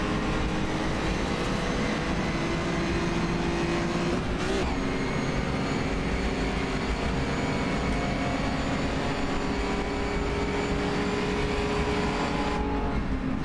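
A Gordini T24S race car in rFactor 2, racing a 1953 sportscar event at Gnoo Blas, its engine droning loud and continuous with steady rasping harmonics, holding near-constant revs along a straight.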